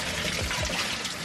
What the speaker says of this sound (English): thinking about washing my hands